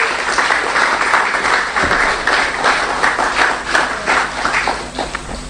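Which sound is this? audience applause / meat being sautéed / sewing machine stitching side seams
audience applause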